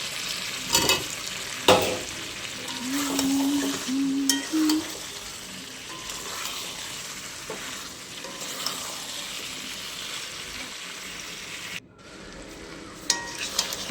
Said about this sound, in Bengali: এখানে গোটা রসুন অ্যাড করে বেশ সুন্দর করে কষিয়ে নিচ্ছি।